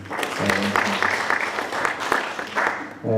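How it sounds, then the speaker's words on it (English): A university international conference audience gives a round of applause for the session's presenters, steady close clapping with a low hum running beneath, then a brief swell at the end. "I will request for us to clap for all presenters for the entire session"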